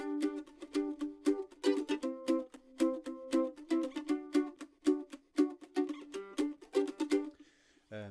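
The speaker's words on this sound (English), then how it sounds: "a basic sort of muted chord structure in G" Muted mandolin chords in G strummed in a steady rhythmic pattern, short damped strokes repeating for several bars, close and alone without voices.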